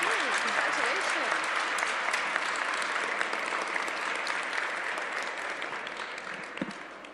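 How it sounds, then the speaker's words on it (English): Loud, continuous audience applause greets an official health-education funding announcement, with a few voices mixed into the clapping, which gradually tapers off near the end. "I'd like you all to join me once again in a round of applause"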